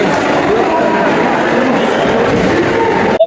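A train rumbles and clatters at a station platform, a loud continuous roar of rolling wagons with crowd murmur underneath, cutting off abruptly at the end.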